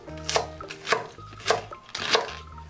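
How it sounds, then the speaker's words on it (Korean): Several sharp, close knife chops cut a green onion into large pieces on a board, four distinct strikes in a loose rhythm, with no one speaking, during preparation of galbi-jjim braised short ribs. "대파도 큼직하게 잘라줍니다."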